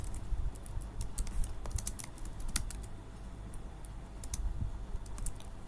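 Steady, brisk typing on a computer keyboard while writing HTML, CSS and JavaScript code, a continuous patter of close key clicks over a low background rumble, with no talking.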